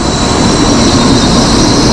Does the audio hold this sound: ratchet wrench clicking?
no